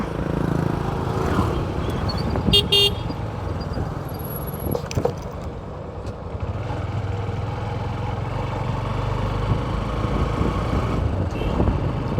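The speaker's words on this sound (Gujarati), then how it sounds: "ને ટ્રાફિક પણ થોડુંક વધારે છે" Busy highway traffic roars past with engines passing nearby, and a short burst of horn honks cuts through the steady rumble.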